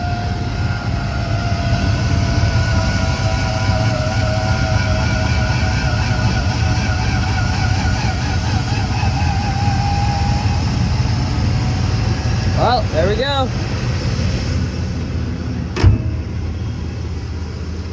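A steady, rumbling 3.9L V6 engine of a 2001 Dodge Dakota SLT idles continuously with a low, unhappy drone, while someone briefly speaks near the end and a sharp click sounds.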